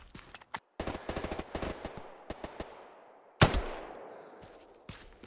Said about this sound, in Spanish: Sí, me está disparando.